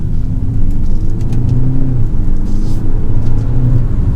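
A 2022 BMW 228i Gran Coupe with a 2-liter engine accelerates in manual mode, producing a loud, steady engine rumble whose tone climbs as it pulls through the revs.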